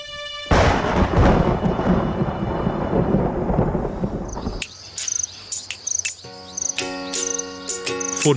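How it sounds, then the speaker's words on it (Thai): Heavy rain in a Zimbabwean thunderstorm roars as a dense, loud downpour, then stops abruptly and leaves quieter chirping insects and calling birds. "สำคัญก็คือมีฝนตกกระหน่ำ"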